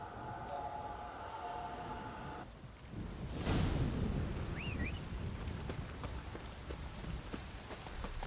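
Heavy rain pours steadily in the video game The Witcher 3 on PS5, a dense hiss of drops that swells louder after a brief lull, with no voices.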